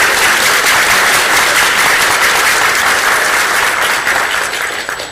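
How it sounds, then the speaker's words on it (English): A convention audience applauds a writer guest of honor, a dense, loud, steady wash of clapping from many hands throughout, tapering off slightly at the end. "We can have a little applause now."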